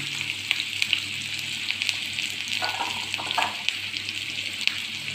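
Sliced garlic and onion fry in a pan for prawn roast with a continuous close sizzle and a few soft stirring scrapes, with no voices.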